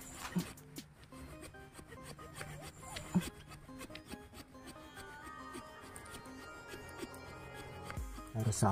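Hand-sawing the stump of a wild Javanese tamarind bonsai being dug up: steady rasping strokes of a saw through wood, close and fairly quiet, with a few knocks and background noise.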